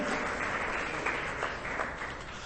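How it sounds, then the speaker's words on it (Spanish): Church congregation applauding during an evangelical sermon, a steady wash of clapping from many hands, moderately loud and continuous throughout without talk. "denle ese aplauso"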